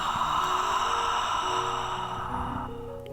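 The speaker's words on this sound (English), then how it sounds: "Exhale through the back of the throat." A long, steady breath is pushed out through the back of the throat in a slow centering breathing exercise, a close, breathy hiss that fades near the end.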